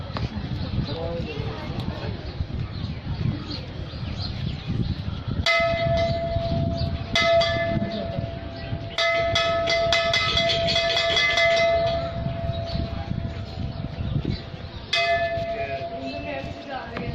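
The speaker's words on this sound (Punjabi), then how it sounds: "ਮੈਂ ਹੁਣ ਟੱਲ ਵਜਾਉਣਾ।" A temple bell at Bhagat Namdev's birthplace shrine in Narsi is struck several times, each stroke ringing out in a bright, sustained metallic tone over background chatter and voices.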